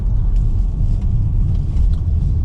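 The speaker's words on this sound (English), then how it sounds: "As we come up to a sharp right-hand turn here, applying the brakes" A 2020 Volvo V60 wagon slows for a sharp right-hand turn, giving a steady, loud low road and engine rumble from inside the cabin with no clear separate braking sound.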